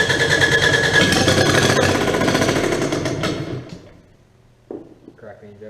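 A Kubota D722 diesel engine cranks hard and fast with a loud, rapid chugging rhythm for several seconds, then winds down and stops without catching, followed by a brief clunk and quiet.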